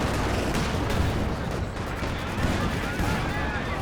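Rifle shots crack out amid the constant clamor of a Company of Heroes 2 battle, with artillery and gunfire layered densely throughout and a voice commentating over the din.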